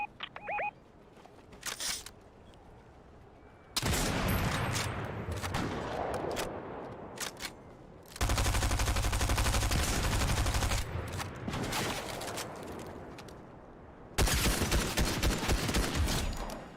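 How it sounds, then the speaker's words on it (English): Video game gunfire plays out in sharp bursts of rapid shots, with several loud, dense volleys separated by quieter stretches of game ambience. No one speaks. "They were shooting and aiming at somebody."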